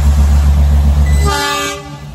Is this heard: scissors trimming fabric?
no